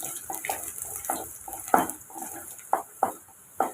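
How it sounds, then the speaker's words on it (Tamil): A utensil scrapes and clinks against a pan in irregular strokes while garlic sautés in butter with a soft, faint sizzle underneath. "பூண்டை இப்போ ஒரு நிமிஷம் நம்ம வதக்கி விட்டுக்கலாம்."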